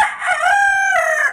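A rooster crows once, loud and close, in a single drawn-out call among a flock of mixed fancy chicken breeds.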